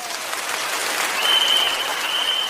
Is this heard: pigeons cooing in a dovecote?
no